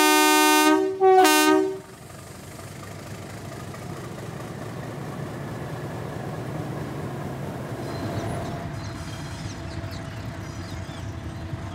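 An Indian Railways train near Patalpani sounds two loud blasts of its horn, then rumbles steadily past at close range with a continuous low rolling roar.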